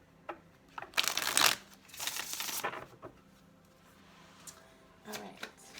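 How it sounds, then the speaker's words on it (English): Tarot cards shuffled by hand, with a couple of bursts of riffling, rustling card noise separated by quieter pauses, close and moderately loud, with a faint softer shuffle near the end. "will be our last shuffle."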